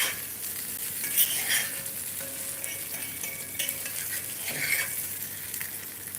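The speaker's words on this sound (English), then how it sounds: "then we do stir fry, so it doesn't have too much oil" Steamed Gujarati muthia stir-fried in a little oil, with a bright continuous sizzle and intermittent scraping and clinking of a utensil against the pan, close up and without speech.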